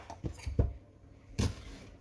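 A kitchen knife chops an onion finely on a cutting board, giving a few sparse, soft thuds with quiet pauses between them.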